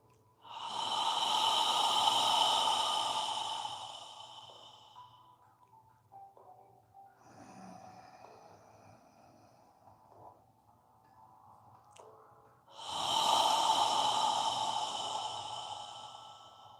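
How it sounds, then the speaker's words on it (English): Slow, audible exhalations through the mouth during a yoga breathing exercise, each a long hushed rush of breath lasting several seconds, close and fairly loud, with a quieter pause between two exhales. "Imagine you're fogging a mirror with your breath as you exhale."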